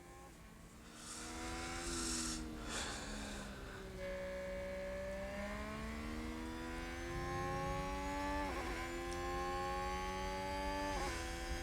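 Simulated Formula 1 race cars, a Haas among them, battle for position in the F1 Manager 2022 game at the Hungary circuit, engines whining and rising in pitch through steady revving, with brief bursts of tire noise, loud and continuous with no talk.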